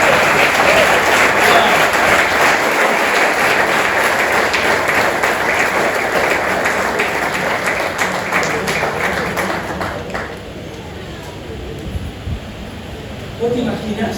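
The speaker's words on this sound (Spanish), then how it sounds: "Dale un fuerte aplauso al Señor." Loud, sustained applause from a church congregation during a Spanish-language service. Many hands clap steadily for about ten seconds, then thin out and fade, with voices mixed in.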